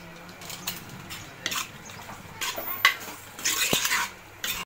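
Prawns sauté in oil with onion and tomato in a pan for prawn thokku, a spoon scraping and stirring in irregular strokes with a soft sizzle underneath, close and without talk.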